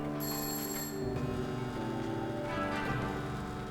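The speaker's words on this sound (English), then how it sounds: "I can hear a clock ticking." A clock ticks and chimes in the building-management game Project Highrise, with bright bell-like ringing tones over steady in-game music and ambience, continuous and moderately loud throughout.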